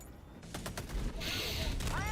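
Turret gunfire in a mech shooter game set in a Warhammer 40k-style world: dense, continuous bursts of shots that build to a loud, sustained barrage near the end, with a voice speaking over part of it.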